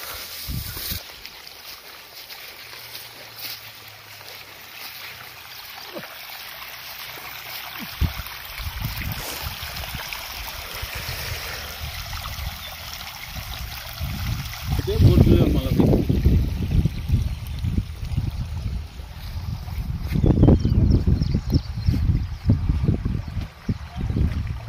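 Slow water flow from an old farm borewell, a steady trickling and splashing that grows louder and fuller after the midpoint, heard outdoors with wind in the background.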